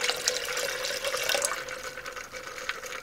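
Water pours steadily from a container into a flask of potassium bromide solution during a hydrobromic acid synthesis, a close, continuous splashing trickle with small bubbling fluctuations, heard alone without talk.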